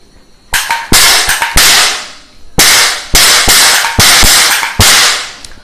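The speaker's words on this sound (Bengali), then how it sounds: "এরকম একটা নকল বন্দুক কিনে তাতে ক্যাপ রিল ভরে" A toy cap gun loaded with cap reels fires a string of sharp, loud snapping bangs, some single and some in quick doubles, each cracking hard and ringing briefly before the next shot, with no voices.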